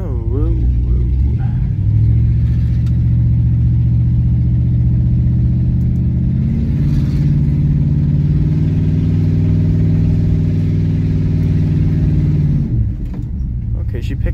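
An old Oldsmobile car engine with a newly fitted transmission drones loudly and steadily near the microphone, its pitch rising and then shifting partway through as the gearbox changes gear.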